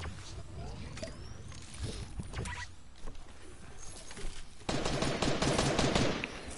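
Video game gunfire, bursts of rapid shots over a noisy background, with a denser stretch of firing toward the end.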